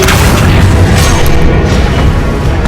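A Confringo spell in Hogwarts Legacy erupts as a loud, sustained booming blast with dense low rumble and crackle filling the whole moment, no voices present.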